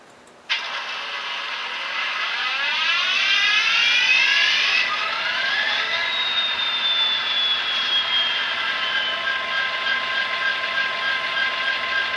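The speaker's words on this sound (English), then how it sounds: "We'll start the engine." Model NSW 8206 diesel locomotive with a 21-pin sound decoder starting up: a sudden click, then a rising whine and engine drone that settles into a steady, loud idle hum with a high tone.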